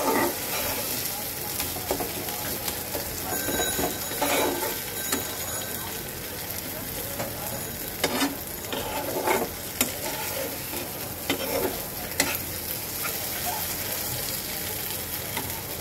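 Spice masala stir-fried in a pan for a catla fish curry, a continuous close sizzle with frequent scraping and stirring strokes and a few sharper knocks of a spoon, a voice faintly present now and then.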